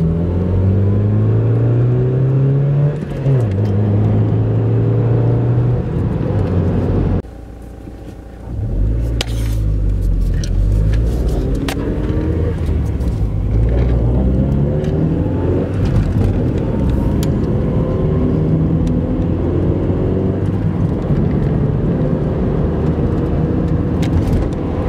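A Honda Civic EJ9/EK drives off, the engine humming and rising through the gears in a steady close rumble, briefly dipping partway before the revs climb again, with no voices.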